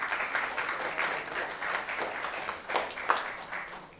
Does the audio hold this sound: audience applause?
yes